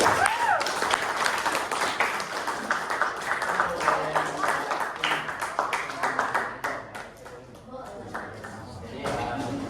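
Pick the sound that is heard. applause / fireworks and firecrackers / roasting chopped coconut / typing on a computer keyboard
applause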